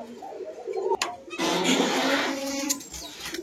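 Giribaz pigeons cooing inside their shed, a steady murmur of soft, throaty coos from several birds close by, with a brief sharp knock partway through.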